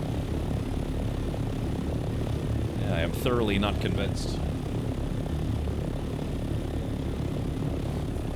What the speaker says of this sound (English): The choppers are fun, but they're a little on the loud side.